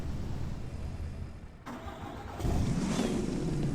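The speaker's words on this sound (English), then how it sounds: "That turbo diesel." Ford F450 turbo diesel truck in Farming Simulator 25 cranks and starts, then settles into a loud, steady diesel idle with a rising turbo whine, close and without talk.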